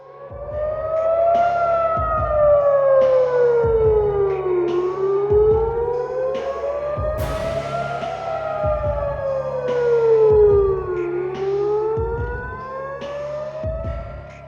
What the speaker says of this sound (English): Civilians took shelter as sirens continued to sound